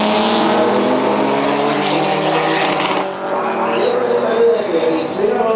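Race cars, among them an Opel Manta Turbo, roar along the track at DHB 2009, loud engine drone shifting in pitch as they pass, with voices talking throughout.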